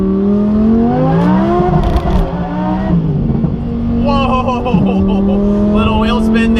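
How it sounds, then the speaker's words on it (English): A Lamborghini's supercharged V10 engine accelerates on a freeway, its steady, loud tone climbing and dipping through the gears with road noise throughout and a brief shift-like dip midway. "Figured I'd give you a little bit of a taste of that epic V10 goodness."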